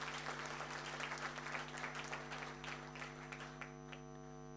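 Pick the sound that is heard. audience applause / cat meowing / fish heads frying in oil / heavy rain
audience applause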